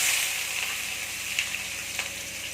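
Whole spices crackle in hot oil before onion goes in for egg rice, giving a continuous bright sizzle with a few sharper pops and light stirring, and no talking.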